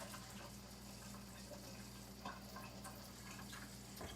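About three tablespoons of water pour steadily into a blender for white blender bread, a constant close liquid rush with no talking over it.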